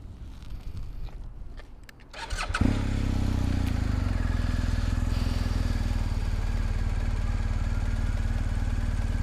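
A BMW R 1250 GS Adventure motorcycle starts and settles into a loud, steady idle rumble close by, after a few rustles and clicks beforehand.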